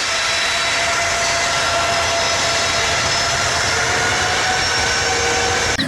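A constant, loud jet-like airplane engine roar fills the scene without a break, close and steady, heard while a muddy Garuda toy airplane is being cleaned.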